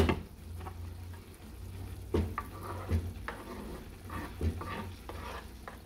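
Olives added to a sizzling pan for a ground beef lasagna, giving a quiet, steady sizzle broken by several soft scraping strokes and light clatter of a utensil stirring.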